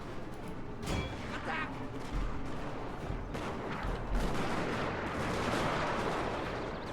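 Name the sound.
gunfire and artillery in video game Total War Shogun 2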